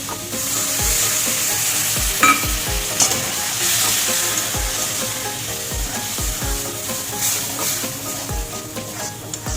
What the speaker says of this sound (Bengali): জলটা দিয়ে আবার ভালো করে কষিয়ে নেব